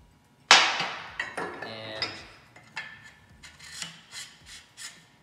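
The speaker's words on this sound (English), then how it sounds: "So I'm gonna stick the screwdriver in, give it a love tap, give it a love tack, and then do that all the way along." Light hammer taps driving a screwdriver into a wooden arm rest frame during upholstery work: one sharp loud strike followed by a series of softer, irregular taps and scraping.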